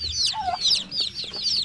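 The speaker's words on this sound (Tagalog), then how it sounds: "Marami yung sisiw natin dyan ng manok" Chicks peep in high, rapid chirps over lower clucking from hens in a rural yard, the calls steady and overlapping close by.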